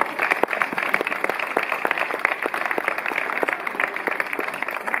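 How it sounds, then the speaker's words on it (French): Steady applause from a festival crowd at the 25th Fête du Pays du Ried inauguration in Holtzwihr, thanking the organising committee; dense continuous clapping holds evenly throughout with no voices over it. "Je vous propose tout de suite de les applaudir pour les remercier."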